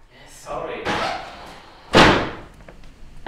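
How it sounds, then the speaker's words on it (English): A door slams shut indoors with a single loud, sharp thud, preceded and followed by people speaking. "Close the door!"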